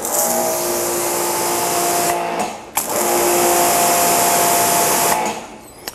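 HART 2000psi electric pressure washer running with a steady motor whine and spray hiss, cutting out briefly around the middle before resuming, then stopping near the end.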